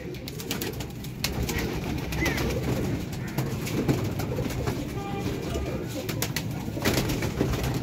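Pigeons coo steadily among a flock of about 64 birds, with rustling and faint background voices mixed in.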